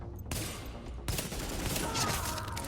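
Gunfire in the video game Tom Clancy's The Division, bursts of shots that start abruptly after a brief quiet moment and continue as dense, fairly faint rattling.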